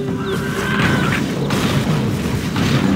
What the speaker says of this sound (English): Need a quick mortar strike?